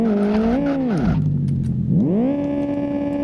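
A BMW E36's engine in the Live for Speed racing game revs up, drops sharply to a low idle-like drone, then climbs back to a steady high pitch, loud and close with no talking.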